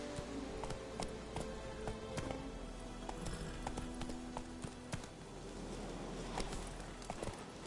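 Hooves of Geralt's horse Roach clip-clop in a steady walking rhythm in The Witcher 3, close and clear over soft ambient game sound.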